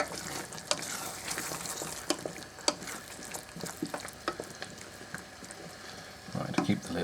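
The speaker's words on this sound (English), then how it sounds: "Right, let's give that a slight stir" A spoon stirs Christmas turkey stuffing in a pot, giving irregular scraping and clinking strokes with brief sharp knocks, moderately close, and no talk.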